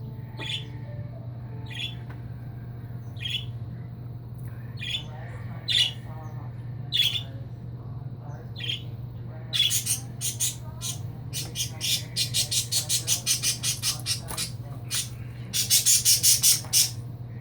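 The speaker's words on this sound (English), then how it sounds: "Sometimes I think these little birdies are cussing at me for being in their room." Small pet birds in an indoor room give sharp squawks at spaced intervals, then break into rapid bursts of chirping, close and fairly loud over a steady low hum.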